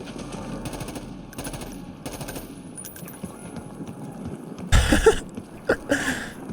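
Rapid automatic gunfire in the Warzone video game, bursts of repeated shots with a heavier loud blast midway and further sharp reports after, fairly close and punchy.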